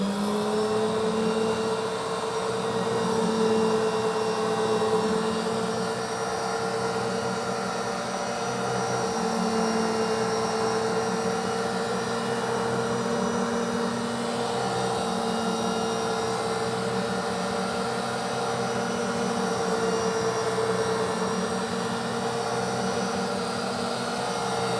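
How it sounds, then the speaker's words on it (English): Pipe clamped in place being cut through during pipefitting work, a steady continuous machine whine and grinding drone that runs evenly at close range for the whole stretch, with no talk over it. "And now I'm ready to just make my cut like we did when we made our first initial cut to square off the end."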